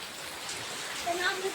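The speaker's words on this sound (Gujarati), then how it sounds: "બહુ વરસાદ ચાલુ છે." Heavy rain hisses steadily in a dense wash of falling water, with a few faint tones near the end.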